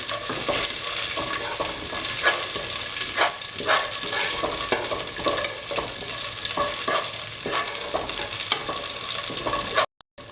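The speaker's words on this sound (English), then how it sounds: "Saute until the raisins become puffy." Raisins sautéing in a pan for semolina kheer, with a continuous close sizzle under repeated scraping stirs and taps of a utensil, ending in a brief cut of silence.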